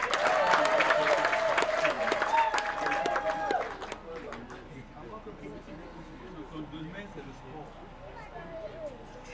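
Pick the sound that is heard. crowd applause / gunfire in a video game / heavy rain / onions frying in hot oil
crowd applause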